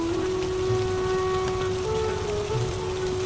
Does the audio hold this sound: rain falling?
yes